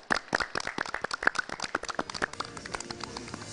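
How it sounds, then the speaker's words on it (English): A small group claps at the end of a televised English quiz show, a sparse, uneven round of distinct nearby hand claps that thins out and fades within a few seconds. "Let's give ourselves a round of applause."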